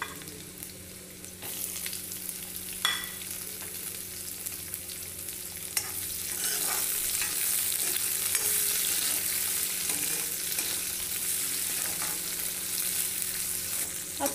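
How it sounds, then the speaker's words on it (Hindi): Onions frying in a pan with bhindi and kundru, a steady soft sizzle that grows louder partway through, with occasional stirring scrapes and clinks. "अब हम इसमें प्याज डालेंगे।"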